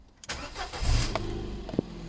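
A Ford Fiesta engine cranks briefly, then catches and roars to life, settling into a steady running rumble close by.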